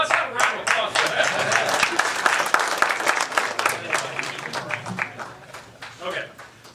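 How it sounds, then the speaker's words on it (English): Audience applause from a conference crowd fills the room, a dense steady clatter of many hands that gradually thins and fades toward the end, with a low steady hum beneath. "let's have a round of applause for that."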